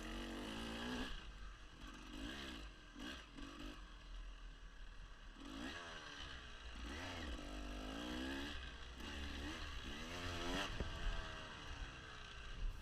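A dirt bike rides a wooded hare scramble trail during a race, its engine revving up and down in rapid bursts, close and loud throughout, with clattering over rough ground.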